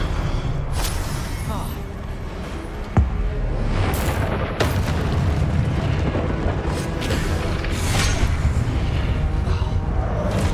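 The Expelliarmus disarming spell is cast in the video game Hogwarts Legacy, setting off deep booming magical blasts and crackling impacts over a dense, continuous wash of combat noise.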